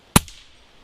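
A single sharp, loud report from a Pinty bullpup air gun fired at a steel paddle target, with a short ringing tail afterward and no voices.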